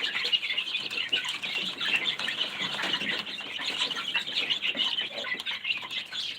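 Baby chicks in a large brooder chirp and peep in a steady, dense chorus of high, overlapping calls, with no pauses, close by, and no voices.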